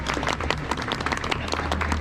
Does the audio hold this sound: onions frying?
no